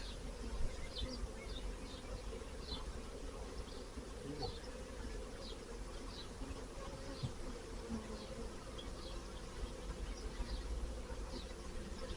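Honeybees buzz continuously around a newly set up hive outdoors, a soft, steady drone with faint passing whines as individual bees fly near, no talking.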